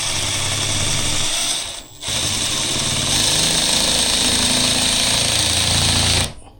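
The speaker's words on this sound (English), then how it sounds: "we'll get our screws, our drill, hex bit, and we'll start screwing that up" A power drill with a hex bit whirs loudly up close driving a screw into ceiling timber in two bursts, a short run, a brief pause, then a longer strained grind before cutting off.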